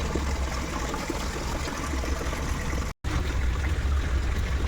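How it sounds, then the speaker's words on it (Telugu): Bore water gushing from a pipe into a container, a steady loud rushing flow with a brief cut partway through, with no voices. "ఇప్పుడు వాటర్ పట్టేయాలి దీనికి ఫుల్గా. బోర్ వాటరే పడతామండి"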